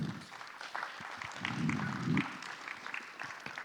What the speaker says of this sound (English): Please applause for Stanislav